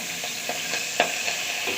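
Mustard seeds, cumin and drumstick leaves crackle and sizzle in hot oil as a tempering, giving a steady close hiss with several sharp pops, one louder pop near the middle.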